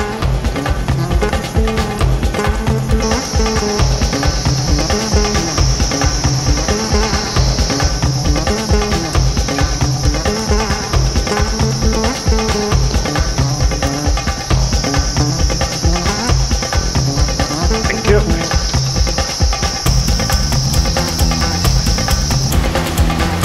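Cicadas in a shaded forest beside rice paddies on a Himalayan trekking route buzz in a loud, continuous high drone, layered over dense steady insect chirping throughout.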